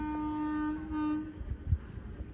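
A distant horn from a train bound for Guntur on the Guntur–Tirupati line sounds as a long steady tone, then fades into low rumbling and a few thuds nearby.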